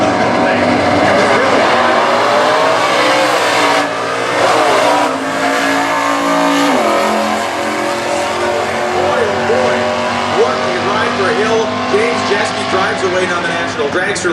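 A stock eliminator drag car at the US Nationals launches hard, lifting into a wheelstand, its engine a loud, sustained roar with rising revs, while an announcer talks over it.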